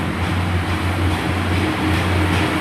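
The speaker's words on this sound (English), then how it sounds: "And also departing out now is 43603" Train 43603, an HST power car, departs Exeter St Davids station with a loud, steady diesel rumble and droning engine hum filling the platform without a break.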